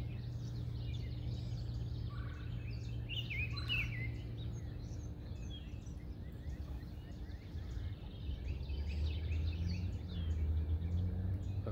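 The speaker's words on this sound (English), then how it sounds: "the orchard oriole just gave a song to the left." An orchard oriole sings in short, bright phrases somewhere to the side, fairly faint over a constant low hum and outdoor background.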